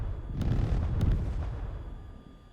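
Jet aircraft guns strafe ground targets in the video game Tiny Combat Arena, a heavy rumbling burst of rapid cannon fire with a couple of sharper cracks, fading out toward the end.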